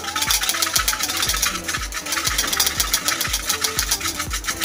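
A coffee mixture with hot water being whisked hard by hand, a fast, steady, near scraping rhythm of repeated strokes without pause.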